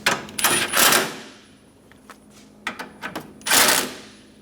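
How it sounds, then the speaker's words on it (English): A ratchet snugging down the radiator bracket bolts on a 2012-2020 Chevrolet Sonic 1.8L, with bursts of rapid clicking, brief pauses and single taps, close and loud. "Snug the bolts down."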